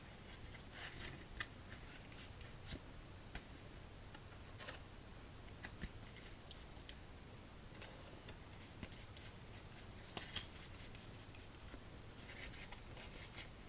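Deck of blue playing cards being shuffled at the close of a solitaire game, a soft continuous riffle and rubbing texture dotted with small ticks and flicks, close and quiet with no talking.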